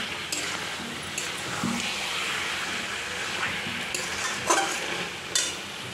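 Meat braising in a covered pan, giving a steady low sizzle with soft scraping and stirring sounds and a few clinks of utensils, continuous and close.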